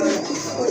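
Arabian pigeons with upright crests and heavily feathered feet give a short, low cooing murmur. It is close, fairly loud and steady for under a second.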